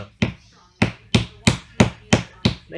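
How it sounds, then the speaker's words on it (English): A wooden mallet taps wooden bow ties down into a black walnut slab, giving seven sharp, evenly spaced knocks at close range with no talk. "Glued them up and tapped them down in there with the mallet."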